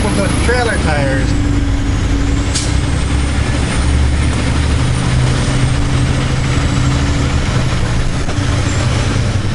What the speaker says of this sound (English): Dropping the curb with the steer tires and rubbing the curb with the trailer tires.